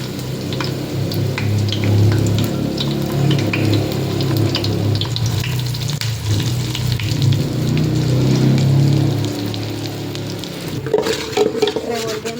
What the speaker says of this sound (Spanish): Cuando la cebolla se empiece a quemar, es tiempo de echar los frijoles